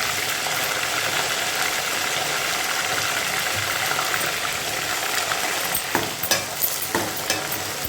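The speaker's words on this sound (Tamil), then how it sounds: "எண்ணெயிலேயே போட்டு வதக்கும் போது" Eggplant slices sauté in hot oil with curry leaves for a spicy Tamil kara kuzhambu, giving a steady close sizzle and frying hiss with a few stirring scrapes near the end.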